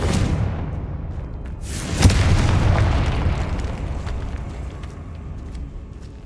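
A Confringo blasting spell explodes in the Hogwarts Legacy video game, a loud booming burst that hits early and rolls off into a long rumbling decay, with no talking.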